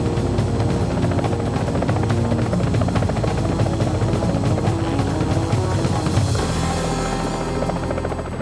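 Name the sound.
military helicopter rotor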